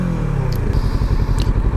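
A Kawasaki Z650 RS motorcycle engine idles close by with a loud, steady low rumble and a rapid, slightly uneven pulsing beat, with light mechanical clatter on top.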